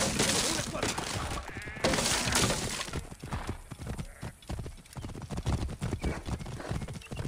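Horse hooves clip-clop steadily through the Assassin's Creed Origins game, with a horse whinnying and voices shouting over the noisy, busy mix of the chase.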